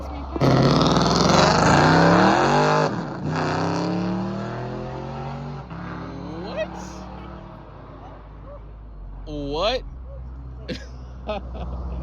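Straight-piped Lexus V8 exhaust rumbling loud and close at walking pace, a heavy rev swell at first then a deep idle burble with brief blips, while people talk over it.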